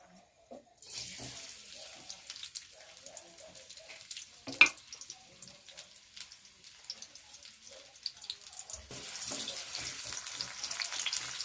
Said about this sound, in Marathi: आणि ह्याच्यात आता कांदा टाकूया आपण.